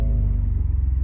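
Low, steady exhaust growl from a 2016 Ford F-150 EcoBoost with dual exhaust and its resonator deleted, idling just after start-up, deep and rumbling with a slight throb, close and alone.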